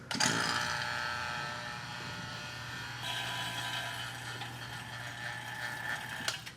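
A vacuum pump evacuating the AC system of a 1979 K5 Blazer drones steadily with a continuous mechanical whine and buzzing hum, fairly quiet and unbroken throughout.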